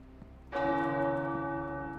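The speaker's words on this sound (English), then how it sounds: "The tower bells are ringing." Tower bells ring out in the Marvel's Midnight Suns video game, a single loud, rich bell strike with long sustained overtones entering after a brief quiet lead-in and decaying slowly over the remaining seconds.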